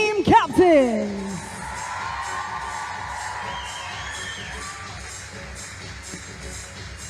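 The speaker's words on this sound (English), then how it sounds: "Let's have one big round of applause for all of our team captains." A school crowd at the World Schools Netball Cup claps and cheers for the netball team captains. A couple of loud whoops open it, then steady applause and crowd noise hold through to the end.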